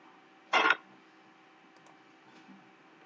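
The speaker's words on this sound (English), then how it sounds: "Let's click on internet gateway." A single computer mouse click, a short crisp tick close by in a quiet room, followed by near silence and another brief click at the very end.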